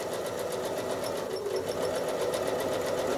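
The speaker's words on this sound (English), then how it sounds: "So very slowly and carefully, I'm going to travel stitch my way out." A sewing machine runs steadily while free motion quilting, slowly travel stitching back along a line out of a garden maze design; the motor hum and rapid needle strokes are close and constant, with no talking.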